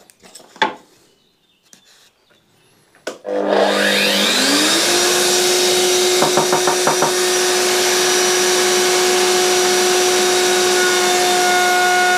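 A tenoning jig test cut runs with dust extraction on. A few quiet knocks come first, then the extractor starts with a loud rising whine and holds a steady drone, with a short burst of rattling cutting noise in the middle.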